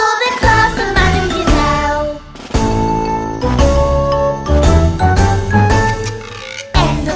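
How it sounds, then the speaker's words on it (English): A school bell ringing for the end of class in a Peppa Pig cartoon, a bright, loud run of tinkling, chiming tones in repeated bursts with short pauses, with no talking over it. "Listen, there's the bell for the class of Madame"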